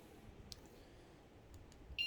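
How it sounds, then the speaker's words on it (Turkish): A short electronic alarm-arming beep from an Alfa Romeo R2 e-bike sounds near the end, high-pitched and clear, after a quiet stretch with faint clicks and low background noise. "Alarmı devreye aldım. Sesini duydunuz zaten."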